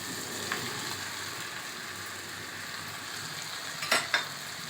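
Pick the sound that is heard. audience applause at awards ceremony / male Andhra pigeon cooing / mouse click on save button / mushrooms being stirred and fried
mushrooms being stirred and fried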